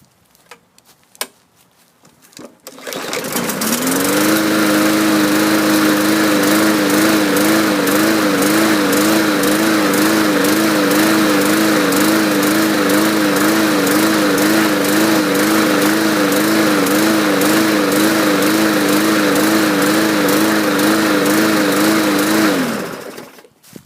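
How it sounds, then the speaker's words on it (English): A 2015 MTD lawn mower engine starts after a brief quiet moment and runs loud and close for about twenty seconds with a steady rhythmic surging, its pitch rising and falling in regular waves until it cuts off. "Okay, surging quite badly. It's going to need a carb clean."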